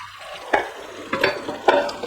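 Green beans with tomatoes, onions, garlic paste and fresh herbs including cilantro, savory and basil are stirred in a pan, three distinct scraping strokes over a low sizzle.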